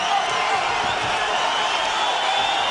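A boxing arena crowd in Austin roars steadily, fans on their feet hollering and screaming in a dense, unbroken wall of cheering.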